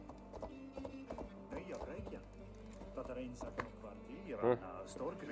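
Horse hooves clop in quick irregular steps while a horse climbs stairs in the Assassin's Creed video game, with occasional whinnies and a person talking over the game sounds.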